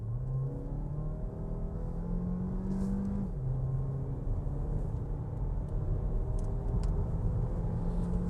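A Jeep Compass 4xe hybrid in sport mode with four-wheel drive and traction control off pulls away hard, its engine drone steady and loud with a pitch climb that drops at a shift, then rising again.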